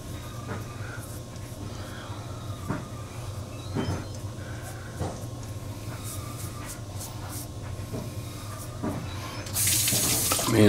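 A five-blade razor rinsed under a running bathroom tap, water streaming steadily with periodic taps and clinks against the sink, a louder gush near the end.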